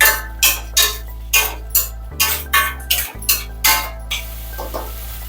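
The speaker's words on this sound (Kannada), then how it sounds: "ಆಲೂಗಡ್ಡೆ ಸ್ವಲ್ಪ ಬೇಯಿಸ್ಕೋಬೇಕು ಈ ರೀತಿ ಮಧ್ಯ ಮಧ್ಯ ಕಲಿಸ್ಕೊಂತಾ ಇರ್ಬೇಕು" Potatoes stirred in a pan while cooking for methi potato rice: a steady series of about ten clattering scrapes of a spoon against the pan, evenly spaced and fairly close, with no talking.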